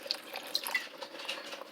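A small splash of cooking wine is poured into a pan while making vegetable lo mein, a quiet, brief liquid trickle and patter with faint drips.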